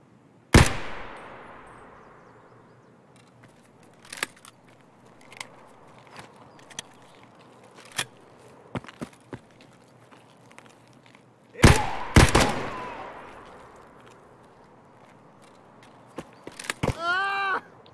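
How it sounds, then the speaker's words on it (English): AK rifle gunfire in the Escape From Tarkov video game: sharp, echoing shots that stand out against quiet stretches, with a few fainter clanks and steps between them. "Sounds like he's got something resembling an AK."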